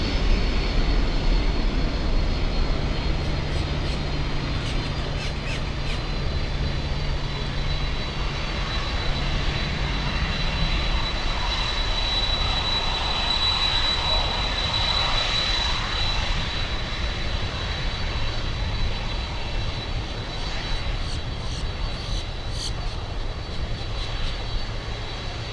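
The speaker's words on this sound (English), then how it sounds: "The LATAM cargo 767 lighting up." A LATAM cargo Boeing 767 jet spools up for takeoff at Miami International Airport. The engine roar is continuous and powerful, with a rising broadband rush in the middle and a low rumble underneath.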